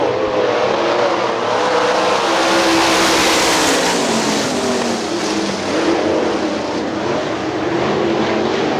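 Sprint cars roar around Hartford Speedway Park in a dense, loud pack, their engines blending into one continuous howling drone that swells and shifts in pitch as the field passes, with no talk over it.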